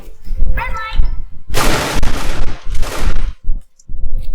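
Bursts of gunfire in a Roblox game crackle in loud, ragged volleys between pauses, mixed in with excited voices talking close by.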